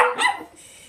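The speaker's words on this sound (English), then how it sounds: "The dogs are having a little fight here." Dogs bark and squabble in a brief, sharp burst of yips and barks that quickly trails off into quiet room noise.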